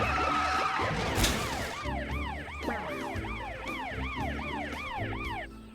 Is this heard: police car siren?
yes